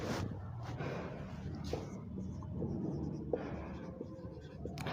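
Marker or chalk writing on a classroom board during a chemistry lesson, with steady close scratching strokes and brief taps over faint room noise and breathing.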